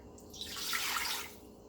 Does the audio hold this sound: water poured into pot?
yes